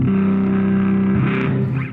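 Dry electric guitar played through a Watson Electric OctalPus tube amplifier with no effects engaged, gain switch on its woolliest setting, sustained chords ringing loud and close with a change of chord partway through.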